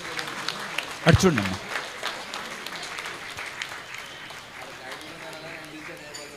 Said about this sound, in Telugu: చప్పట్లో కొడదాం అందరం కూడా